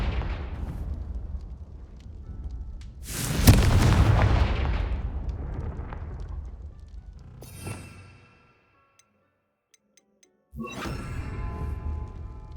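A Confringo blasting spell explodes in Hogwarts Legacy with a deep booming burst and long rumbling decay, followed by a thinner crackle, near silence, then another sharp burst with fizzing debris.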